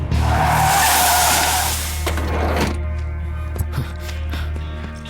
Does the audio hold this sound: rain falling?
no